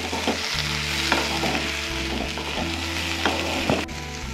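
Small puti fish chorchori with tomato and chilli cooking in a pan, a steady close sizzle with scraping stirs and a low hum underneath, no voices.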